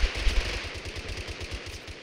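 A Glock pistol fires quickly in Totally Accurate Battlegrounds, giving a fast, even run of low, muffled pops. The shots are fairly faint, as if heard from a short distance, and no one speaks over them.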